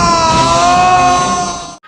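A demon king shrieks from burning heat in one long, loud, sustained high-pitched scream that holds steady before cutting off abruptly.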